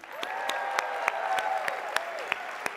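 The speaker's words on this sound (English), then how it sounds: "let's give Mayor Gallego one more hand" Convention audience at an opening ceremony gives scattered, sparse claps for Mayor Gallego, with individual hand claps standing out over a steady hum and a faint sustained tone.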